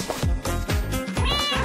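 A stray kitten gives several loud, close meows in quick succession. The cries are high and drawn out, with a longer wavering one at the end, and no voices are heard.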